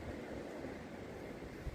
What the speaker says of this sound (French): il y a un vent